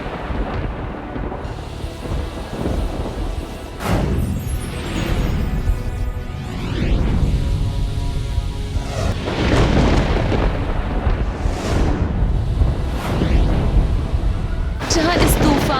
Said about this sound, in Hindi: देखिए टीवी सीरियल के सेट पर नकली तूफान और बारिश कैसे लाई